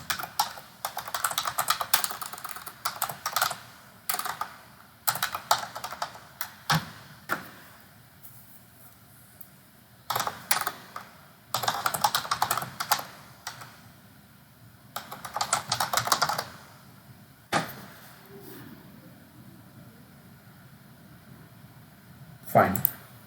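Someone types a git commit message on a computer keyboard in bursts of rapid clacking keystrokes, separated by pauses and a few isolated key taps. The typing is close and moderately quiet, with occasional speech nearby.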